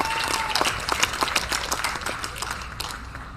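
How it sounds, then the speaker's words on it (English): Scattered audience applause at a summer picnic of a Palos Verdes Democratic club, a small crowd clapping unevenly for a few seconds before tapering off. "I think you should give yourselves a round of applause here."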